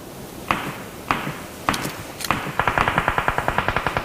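Video game gunfire with bullets shot in through a window: four spaced single shots, then a rapid automatic burst of sharp, evenly spaced cracks, loud and close, with no voices.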